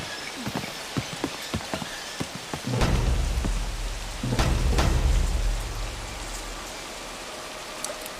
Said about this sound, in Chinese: 真的是在下雨。